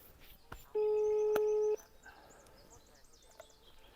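A telephone ringback tone sounds once while a call is being placed, a single steady tone of about a second, followed by faint background noise and birdlike chirps.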